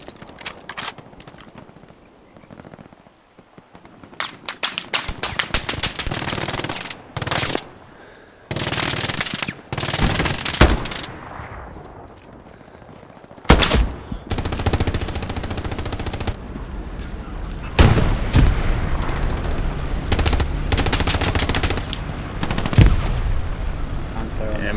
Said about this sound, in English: Machine gun shoot at me.